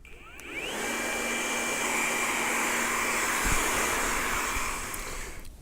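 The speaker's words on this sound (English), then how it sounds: "I'm going to use a diffuser just to dry it off" A hair dryer fitted with a diffuser dries wavy hair in a barber shop, blowing as a loud, steady whooshing roar for several seconds before winding down at the end.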